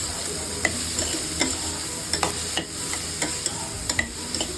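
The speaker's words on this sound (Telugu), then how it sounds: "కట్ చేసి పెట్టుకున్న ఉల్లిపాయలు, పచ్చిమిరకాయలు వేయించుకుంటున్నాను" Chopped onions and green chillies frying in a pan, a soft steady sizzle with a regular run of light spatula taps and scrapes against the pan, close and free of speech.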